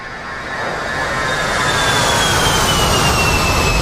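A damaged jet engine in the DCS World flight simulator game whines and roars loud and steady, with high tones slowly falling in pitch and no talk over it.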